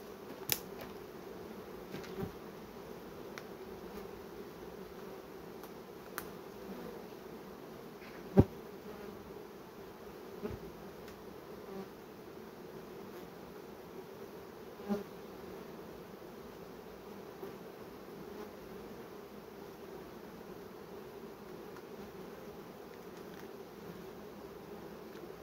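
Honeybees hum steadily around hive frames being handled, a constant close drone of many insects with occasional faint clicks and knocks of the frames.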